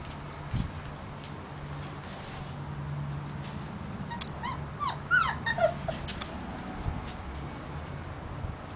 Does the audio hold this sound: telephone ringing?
no